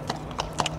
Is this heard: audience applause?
no